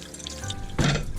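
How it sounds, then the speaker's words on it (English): A couple of potatoes are rinsed under a running kitchen tap, a short burst of splashing water over low background noise. "Give them a quick wash first."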